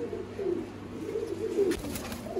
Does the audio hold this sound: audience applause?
no